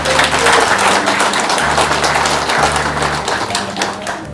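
An indoor audience at a lawyer's book launch concert applauds loudly, dense clapping that fills the room and slowly thins toward the end, with low background hum and a little murmuring.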